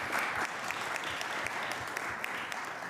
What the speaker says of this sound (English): So everybody, please join me in applauding.